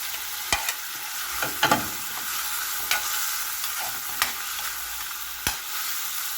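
Smoked galunggong tinapa fish fries with tomatoes in a pan, giving a steady close sizzle broken by several sharp clicks and scrapes of stirring, with no talk.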